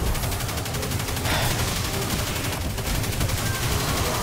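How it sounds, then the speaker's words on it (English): A linear fusion rifle fires in the video game Destiny 2, with dense, continuous rattling bursts of gunfire filling the whole stretch, loud and close with no pauses. "This guy's running a linear fusion rifle."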